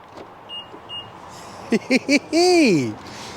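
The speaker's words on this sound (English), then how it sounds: "And then when I unlock the car again" A BMW car being unlocked: two faint beeps, then three short sharp chirps and a longer motorised whir that sweeps up and down, all close by over a steady background hum.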